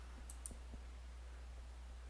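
Computer mouse clicking on a cancel button in Visual Studio: two crisp, close clicks in quick succession, then faint ticks over a steady low electrical hum.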